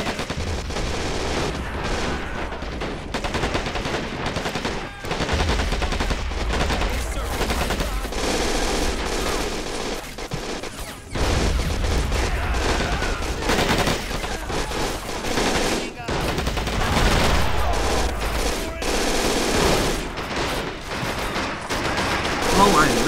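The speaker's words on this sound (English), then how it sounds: "Now we just got to get this machine gun." Dense machine gun fire and rifle fusillades from a World War II Omaha Beach landing battle in the video game Men of War Assault Squad 2. The bursts are loud and nearly continuous, with heavy low booms breaking through.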